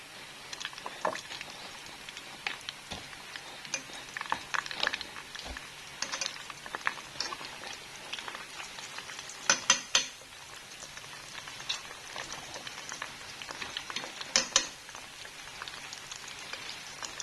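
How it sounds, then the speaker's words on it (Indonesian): Breaded bubble-style crispy chicken nuggets fry in hot oil, giving a steady, close sizzle scattered with sharper crackles and pops, with no talking. "aku taruh aja, goreng seperlunya."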